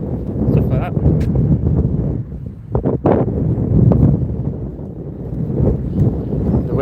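Strong wind gusting outdoors in Belfast, rumbling and buffeting against the microphone in heavy low-pitched waves, loud and close, with a few brief knocks mixed in.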